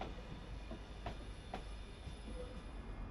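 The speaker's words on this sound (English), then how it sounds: "And here comes our train, operating an inbound service from Manchester Airport." A Class 397 train, part of the Civity platform, rolls in steadily at moderate distance on an inbound service from Manchester Airport, with a low rumble, faint rail clicks and a couple of brief squeals.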